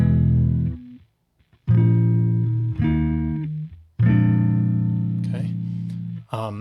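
A granular pitch shifter effect set low, processing sustained harmonic tones with audible grainy artifacts and glitchy stutters between phrases, loud and alone, with a brief silent gap early on.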